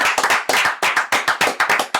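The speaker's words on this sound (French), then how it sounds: "Applaudissements du jury." A jury claps during a stream listening session for a rap project, delivering a few quick, close bursts of hand claps in uneven clusters, loud and alone without talk.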